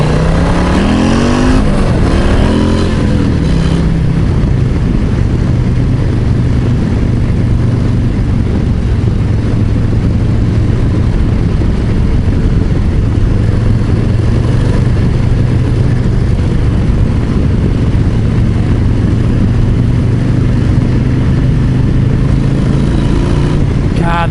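Harley-Davidson Low Rider ST motorcycle engine running loud and steady throughout, a sustained roar with a rise in revs near the start, close by with no talk.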